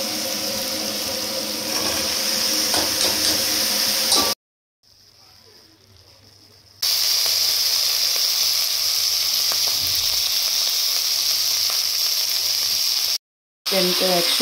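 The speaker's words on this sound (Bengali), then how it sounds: "তো ওগুলোকে অল্প ভেজে নিচ্ছি" Prawns lightly frying in a pan, a loud, steady sizzle close up that drops to a quiet hum for a couple of seconds before the full hiss returns.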